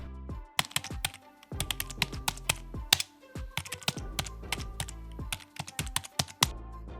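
Typewriter-style keyboard typing as a sound effect: rapid, sharp clacking keystrokes in irregular bursts with brief pauses, close and crisp, with no voices.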